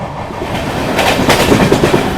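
Mahabodhi Express train running through Etawah Junction without stopping, a steady loud rumble with rhythmic clickety-clack of wheels over rail joints, building slightly toward the end.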